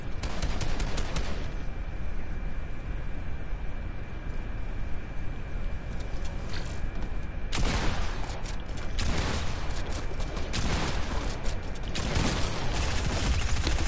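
Shotgun blasts and rapid SMG fire in a video game firefight, loud clustered volleys breaking out in several bursts across a steady background roar, with no talking.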